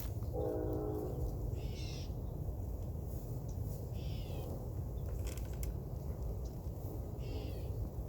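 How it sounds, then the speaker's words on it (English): A low, steady rumble of a train passing close by fills the whole stretch, with a few brief chirps and clanks over it and no talking. "See how close that train is?"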